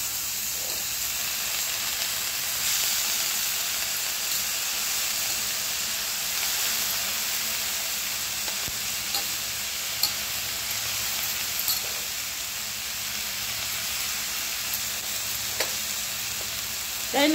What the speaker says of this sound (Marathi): आता आपण तांदूळ टाकूया.